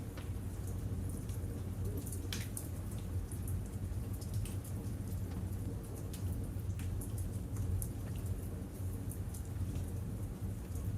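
Steady rain pours outside a bookshop as a constant close wash of falling drops, with faint rumbling thunder low underneath and scattered sharper drip ticks.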